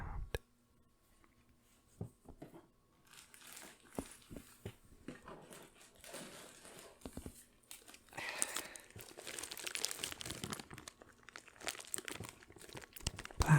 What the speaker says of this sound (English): Plastic bag full of buttons